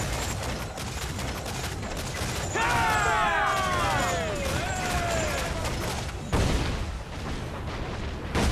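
Naval cannons fire from a pirate ship during a sea battle in the video game Assassin's Creed IV, with heavy booming blasts over a continuous, dense roar of combat noise and sweeping whistling tones.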